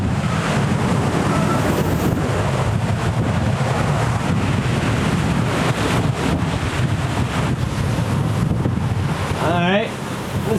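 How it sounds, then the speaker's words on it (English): Ocean waves and strong wind at sea aboard a sailboat: loud, constant wind buffeting the microphone over churning surf and water rushing along the hull, continuing throughout. "Wow, some good waves up at the front."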